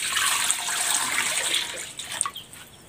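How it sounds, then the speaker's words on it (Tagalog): Water poured into a pot over chicken breast for boiling, a steady close splashing pour that thins into a few trailing drips and trickles near the end. "Lagyan ko ng tubig."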